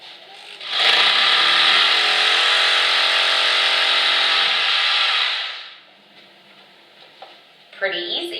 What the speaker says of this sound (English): I've got my drill here, number 2 setting, the hammer setting, and the number 1 speed.